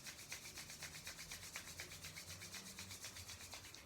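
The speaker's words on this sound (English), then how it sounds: "So rub your hands together." Palms rub briskly together during a Kundalini yoga meditation, making a soft, close, rhythmic back-and-forth swishing at a steady pace, with no talk.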